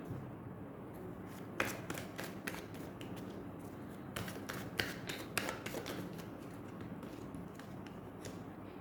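Tarot cards shuffled and cut at a Hindi reading, a run of crisp riffling snaps and taps over a low steady room hum, close and fairly quiet, with no talking.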